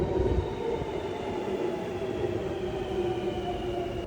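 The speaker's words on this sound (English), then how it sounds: "The train arrives." A driverless Sydney Metro train pulls into a station with a steady, loud rumble and a sustained electric motor whine. A faint high squeal from the wheels is mixed in and runs through the whole sound.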